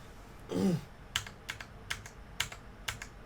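Computer keyboard key presses, a handful of crisp, isolated clicks spaced roughly half a second apart, close and fairly quiet, following a brief low vocal sound.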